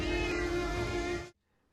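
Several caged cats crying out together at an illegal mountainside slaughterhouse, a steady loud mass of meows that stops abruptly into quiet.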